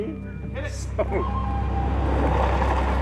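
A car drives up on cue during a film shoot in a garage setting, its steady engine rumble building and holding close and loud after a brief shouted voice at the start.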